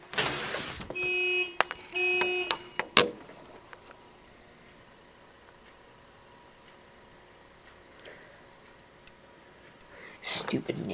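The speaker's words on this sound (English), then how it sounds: "Stupid neighbors, always setting off their car horns at ungodly hours of the night." Neighbors' car horns sound at night, a couple of short bursts of honking near the start heard from a distance, followed by a long quiet stretch of faint background hum and a brief noise near the end.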